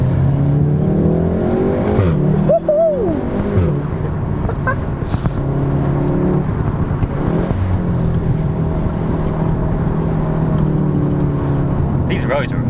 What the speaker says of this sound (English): that sound, that is still indistinguishably a Golf R